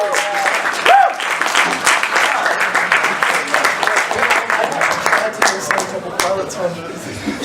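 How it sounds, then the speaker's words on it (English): A crowd gives a keynote speaker, Steve Stewart, a big round of applause, with loud, sustained clapping, scattered voices and cheers mixed in. "Will you please make a massive round of applause for Steve Stewart?"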